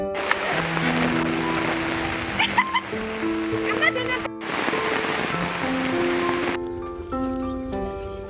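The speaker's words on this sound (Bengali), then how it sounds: "তাই নেমে পড়লাম বৃষ্টিতে" A steady wash of rain hisses throughout, with sustained musical tones and some voices layered on top; a brief break interrupts it midway.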